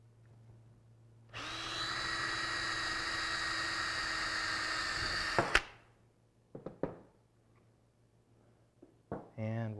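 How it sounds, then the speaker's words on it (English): A power drill whirs steadily for about four seconds drilling a hole in Kydex sheet for a sheath, then stops, followed by clattering handling noises and a brief voice. "So we'll go ahead and drill the first hole."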